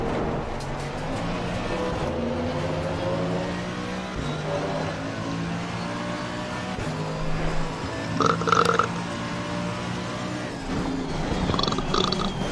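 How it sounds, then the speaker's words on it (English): Engine burp from a Mercedes-AMG GT3 racing car mid-corner on the Zolder circuit, a brief throaty stutter rising over the steady, close engine drone and tyre noise. "Mid-apex burp."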